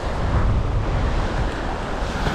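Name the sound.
wind on an open sea shore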